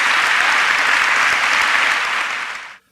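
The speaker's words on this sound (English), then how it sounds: "Applaud your department for that." An audience at Biola University bursts into loud, dense applause for a university department, holding steady for a few seconds before quickly dying away.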